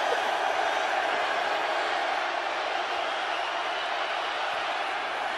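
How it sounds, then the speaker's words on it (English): Football stadium crowd at an XFL game swelling into a loud, continuous roar of cheering and noise that fills the whole stretch without a break. "You hear the crowd getting loud."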